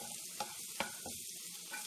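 Crushed garlic sizzles and fries over a low flame in a pan for prawn masala, with a steady hiss and a couple of brief scraping stirs, close and alone with no talk.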